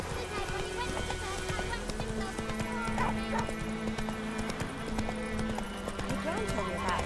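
Hoofbeats of Roach, a horse in The Witcher 3: Wild Hunt, clip-clopping at a steady, fairly near pace through a busy bed of game music and ambience, with a brief whinny and a dog's bark mixed in.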